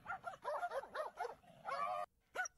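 A small dog barks and yips in a quick run of high, bright, close barks, then goes quiet briefly before one last yip.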